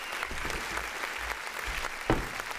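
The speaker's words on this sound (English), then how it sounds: "Can we get a round of applause for that?" A small podcast studio audience gives a short round of clapping, close and moderately loud, with a sharper burst near the end.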